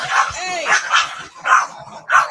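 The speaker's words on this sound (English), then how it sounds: "Dogs are playing." Several dogs play roughly at a house, letting out a run of close, loud barks, yips and a whimper in bursts, with a person's voice mixed in between.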